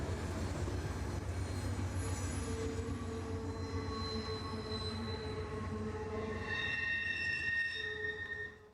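A Conrail freight train rolls past on the Chicago line, wheels squealing in long sustained high tones over a steady rumble of cars, loud and close throughout.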